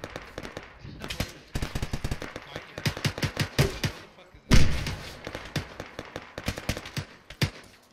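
Gunfire in the Arma military co-op game, rapid bursts of automatic fire and single shots crackling at varying distances, with one heavy close thump midway, continuous throughout.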